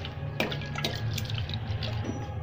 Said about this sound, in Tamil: அலசி சுத்தம் பண்ணிக்கிடணும்.